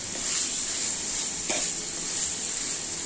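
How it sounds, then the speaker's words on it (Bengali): Finely chopped chicken leg meat sizzles in a pan, a soft steady hiss with a brief stir-like scrape midway, faint and close with no talking. "মাংসটা অনেক সুন্দর করে ভাজা করে নিয়েছি।"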